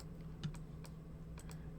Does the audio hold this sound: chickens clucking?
no